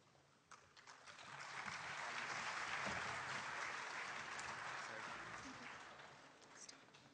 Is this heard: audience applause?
yes